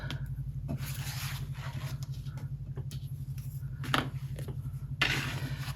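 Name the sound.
cutting paper with a slice tool and small ruler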